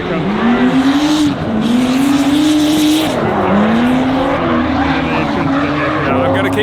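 Formula Drift cars sweep through the sweeper corner one after another, engines wailing and tires squealing loudly as they slide past close by.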